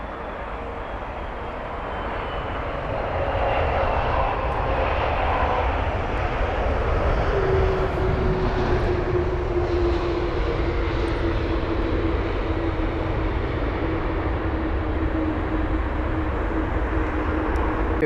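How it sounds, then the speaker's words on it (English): A Turkish Airlines Airbus A330 jet arriving at London Heathrow from Istanbul, its engines building to a loud, steady roar that holds through the pass with a faint descending whine, no talk. "this Turkish Airlines A330 arriving from Istanbul"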